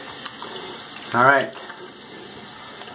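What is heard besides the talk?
tap water running for shaving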